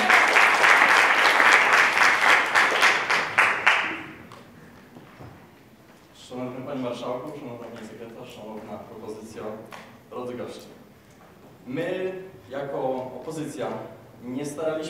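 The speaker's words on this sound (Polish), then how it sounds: "Brawa" Loud, dense audience applause at a debate fills the opening four seconds, then fades out as a speaker begins talking.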